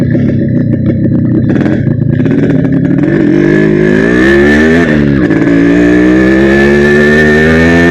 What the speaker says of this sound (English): The sound of this bike is amazing.